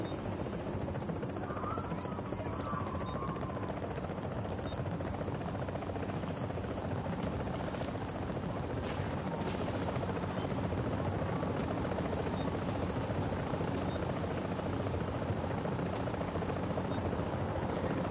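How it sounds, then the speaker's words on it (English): A helicopter arrives in the Dark Zone of a video game, its steady rotor drone running loud and continuous through the whole stretch, with no talking over it. "Chopper is inbound."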